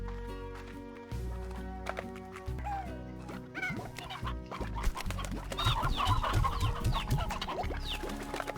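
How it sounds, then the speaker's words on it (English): Chickens cluck in the Slime Rancher video game over a busy, steadily building bed of game music and effects, with the bird sounds mixed into the soundtrack rather than standing alone. "Drop the chickens off."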